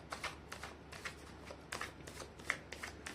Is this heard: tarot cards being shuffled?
yes